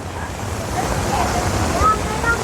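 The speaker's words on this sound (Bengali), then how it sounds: "এই যে এক সাইডে ঝর্ণা পানি" Water from a waterfall in an outdoor public area in Malaysia gives a steady broad rushing noise with a bit of wind buffeting, moderately loud, with faint muffled voices.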